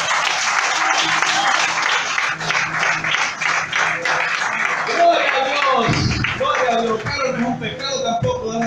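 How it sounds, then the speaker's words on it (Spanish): A church congregation applauds during a service, dense clapping that carries for several seconds and then thins out as voices and talk rise over it. "Denle un aplauso a Dios."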